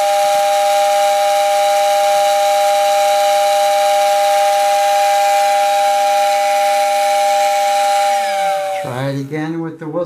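Postwar toy train whistle blowing steadily and loud, a sustained airy tone with a faint hiss that holds for about eight seconds, then breaks into a wavering, warbling sputter as it winds down.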